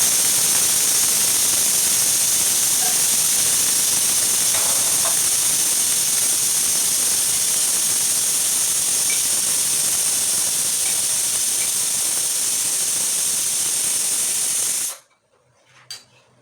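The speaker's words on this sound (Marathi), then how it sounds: "2 शिट्ट्या झाल्या फक्त भातच आहे" A pressure cooker cooking rice lets off a loud, steady hiss of escaping steam for about fifteen seconds, then cuts off abruptly, leaving near silence with a small knock.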